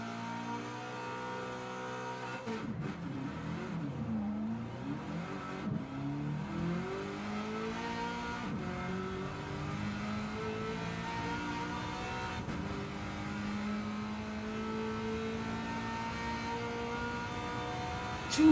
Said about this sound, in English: Rev match. That's what that is.